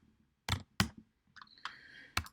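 A few sharp, separate key presses on a computer keyboard as a value is entered, close and clear, with short gaps between them and a brief faint electronic tone in the middle.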